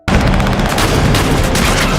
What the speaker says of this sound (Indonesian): Peserta ketiga menembaki para pemburu.